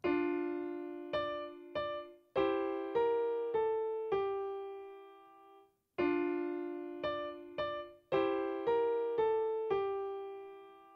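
A piano plays a short measure of a song, melody over a sustained low note, a few struck notes ringing out, then the same phrase repeats.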